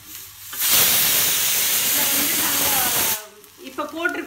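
Onions hit hot oil in a pan with a loud, sudden sizzling hiss that holds for a few seconds before settling to softer frying, cooked at home for Tamil Nadu-style pongal, vada and sambar.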